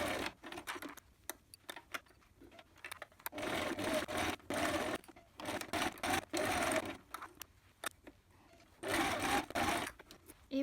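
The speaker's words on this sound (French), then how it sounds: "Et maintenant, vous allez coudre à 1 cm du bord pour relier toutes vos lignes." A sewing machine stitches strips of fabric scraps together in short, fast rattling bursts separated by brief pauses, close and fairly quiet, with no voices.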